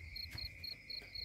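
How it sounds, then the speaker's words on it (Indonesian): Crickets chirp at night in a cold village setting, a faint, regular pulse of short high trills repeating steadily over a quiet background. "Di sini suara jangkrik."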